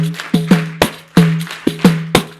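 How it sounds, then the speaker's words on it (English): A pandero frame drum played in time with an audience clapping along at a Montessori conference session in Toronto: sharp, evenly spaced hits over a low ringing drum tone, close and loud with no talking. "listen to how the pandero goes perfect with it"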